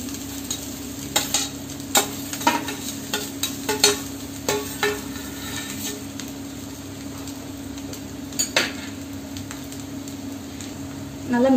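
Rice stirred into a pan of capsicum and egg mixture, with a steady low sizzle and scattered scraping spoon strokes against the pan, moderately close, no talk.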